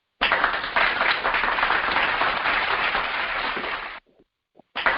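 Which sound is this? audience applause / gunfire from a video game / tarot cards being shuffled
audience applause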